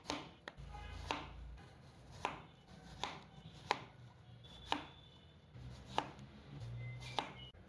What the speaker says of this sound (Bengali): পিছন থেকে একটু কেটে নিচ্ছি, মাঝখান দিয়ে কেটে নিচ্ছি